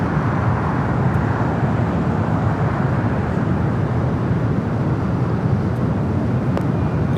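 Boeing 787-8 Dreamliner arriving at LAX on a flight from Tokyo, a steady broad roar of jet engines that holds evenly loud at a moderate distance throughout, with no one talking.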